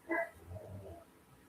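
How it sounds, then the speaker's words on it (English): Short, yappy barks from a dog indoors, one sharp burst near the start, then softer, muffled yips trailing off, fairly faint. "my dog's barking, sorry"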